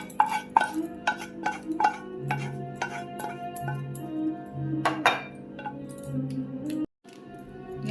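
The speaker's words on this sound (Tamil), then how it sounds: "நல்லா மிக்ஸ் பண்ணி விட்டுக்கோங்க." Eggs, onion and potato being stirred together in a bowl for a Spanish omelette, giving repeated clinks and scrapes of a utensil against the bowl in an irregular rhythm, close and moderately loud, with no talking.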